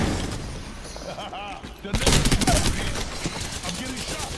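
Rapid bursts of video game gunfire from Apex Legends crackle in quick volleys, dense and loud, with voices talking over the shooting.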